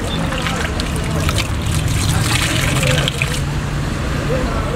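A freshly cut reed stalk is swished and rinsed in water, giving a steady wash of splashing and trickling that stays close and continuous throughout, with a faint voice in the background.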